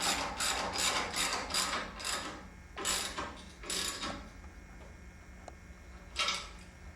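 A ratchet wrench snugs down four bolts during a studio belt replacement, giving bursts of rapid clicking ratchet strokes, close and fairly loud, separated by short pauses, with no talking.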